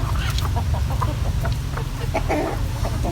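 Chickens cluck in short, repeated bursts over a steady low rumble, several birds close by.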